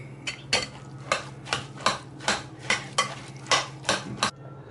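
A spoon stirs ketchup into North Carolina-style barbecue sauce in a bowl, making about nine regular, close scraping swishes in a steady rhythm with no talking.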